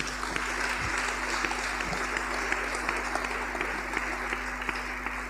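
A church congregation claps together in sustained applause acclaiming the Lord at a sermon on marriage, a dense, steady patter of many hands with no speech over it.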